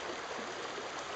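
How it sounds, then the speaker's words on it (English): Floodwater from a lake running out from under a road, a steady soft rushing and trickling flow, fairly faint and continuous with no voices. "The water is coming out from under the road."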